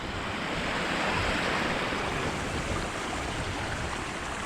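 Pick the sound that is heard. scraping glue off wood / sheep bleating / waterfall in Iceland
waterfall in Iceland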